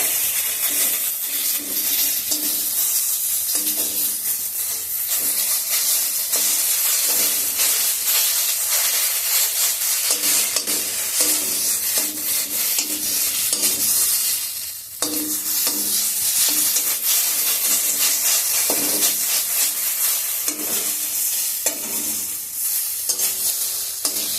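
Cauliflower leaf paste fries in a kadai with a steady, loud sizzle and hiss, broken by repeated scraping stir strokes, close up and continuous with no talking.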